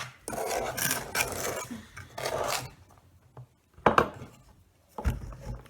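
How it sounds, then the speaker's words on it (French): Homemade sand dough is stirred and mixed in a container, making gritty scraping and rubbing strokes in short uneven bursts, close and fairly quiet, with brief pauses between strokes. "Mais on va essayer de mélanger tout ça."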